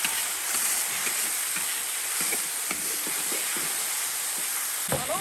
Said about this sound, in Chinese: 把这个牛肉先炒一下